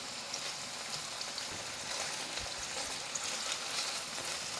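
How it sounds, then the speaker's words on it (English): Paneer cubes frying in a hot pan on high heat, a soft continuous sizzle with faint crackles, steady and close without any talking. "I'm gonna just cook the paneer like a minute or 2 on each side"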